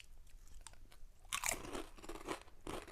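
Kettle-cooked malt vinegar potato chips crunch up close, with a quiet run of crisp bites around one second and a loud cluster of crunching and chewing from about 1.3 seconds onward.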